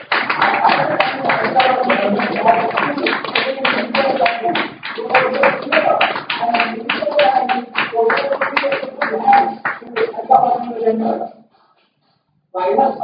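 Sustained crowd applause at a chemical engineering conference venue, dense clapping for about eleven seconds before falling silent, then starting again briefly.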